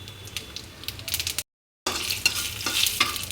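Fennel seeds and a few cumin seeds stir and sizzle in hot oil in a pan, with a crackling frying hiss and scraping strokes, broken by a short silent gap midway.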